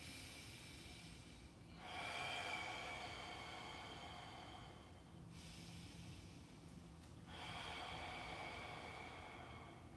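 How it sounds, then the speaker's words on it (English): Deep, slow breaths drawn in and let out during a qigong breathing exercise, each long airy inhale and exhale swelling and fading in a steady rhythm, close and fairly quiet. "2 more breaths"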